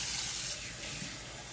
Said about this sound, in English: So here we're going to add our water.